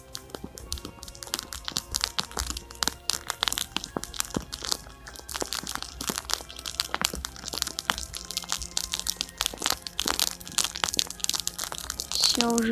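A campfire burns in a winter forest with dense, steady crackling and sharp wood pops scattered through the whole stretch. The fire sounds close and fairly loud, and no voices break in.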